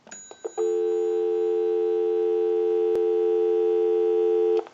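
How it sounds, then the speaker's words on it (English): Busy signal on a Kellogg candlestick telephone, a steady loud tone that begins after a few brief clicks from the handset and holds unbroken to the end, with a single sharp click midway. "We'll call my number and it'll be busy."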